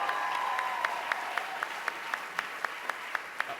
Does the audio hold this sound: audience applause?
yes